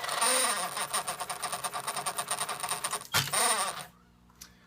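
Whirring, chattering mechanical noise from the spinning tape counter of a vintage Akai 1730D-SS quadraphonic reel-to-reel deck, loud and steady with rapid ticking for about three seconds, a brief break, then a short burst before fading to near silence.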